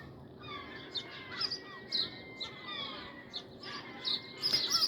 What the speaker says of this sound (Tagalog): Maingay ang mga ibon guys,